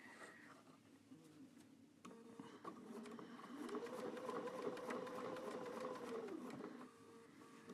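A sewing machine stitches binding onto a quilt, a quiet rapid mechanical whir that speeds up into a steady run for a few seconds, with soft handling clicks before and after.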